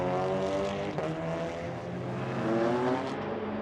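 Racing cars, an Audi RS3 followed closely by a BMW M3, pass at the Red Bull Ring in a Supercar Challenge race, their engines a loud, sustained droning roar with shifting pitch that swells and fades slightly.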